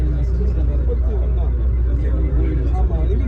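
A brand-new SETC Volvo bus reverses out of Kilambakkam with a steady, deep engine rumble close by, while someone talks over it.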